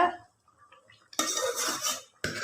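Cooked vegetables tipped into a pot of mutton dalcha, a quiet lull and then a loud clattering scrape of a metal pot and utensil, a short pause and another scrape, no talking.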